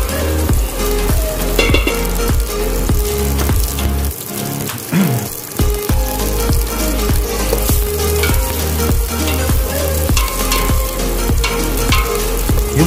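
Chopped onion sautéing in oil with garlic that has already browned, stirred in a pan for a chicken and tamarind stew; a loud, constant sizzle with a regular rhythm of stirring scrapes.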